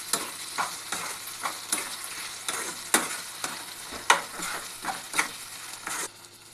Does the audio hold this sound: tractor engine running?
no